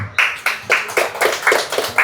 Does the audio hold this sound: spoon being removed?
no